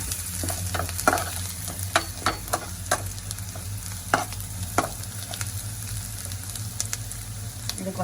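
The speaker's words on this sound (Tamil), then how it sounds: "வெங்காயம் நல்லா வதங்கி கொண்டு வருது" Onions sauté and sizzle steadily in a hot pan while a spoon scrapes and stirs through them, making scattered clinks and scrapes over a constant frying hiss.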